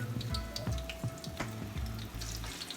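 Pieces of food fry in hot grease in a pan while cooking a Hawaiian chicken meal, making a steady, soft sizzling hiss with scattered light clatter and crackle throughout.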